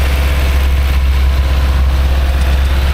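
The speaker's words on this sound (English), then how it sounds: "Engine sounds healthy." A 2017 Ford F-150 pickup engine with a K&N cold air intake idles steadily up close, a continuous low rumble with no pauses and no talking.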